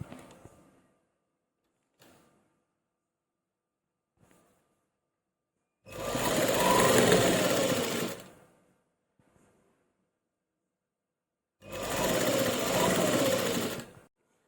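A sewing machine stitches lace onto a shirt sleeve, two steady whirring runs of about two seconds each, close and loud, separated by quiet pauses with faint handling clicks.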